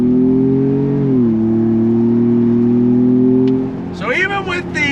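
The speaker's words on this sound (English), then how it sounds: "So even with the 4x4 engaged, you're still getting some nice acceleration, not really waiting for the boost buildup." A 2025 Ford Bronco Big Bend in 4x4 pulls away under throttle, its engine giving a steady drone from inside the cabin that rises slightly in pitch. Near the end the engine fades and a person starts talking.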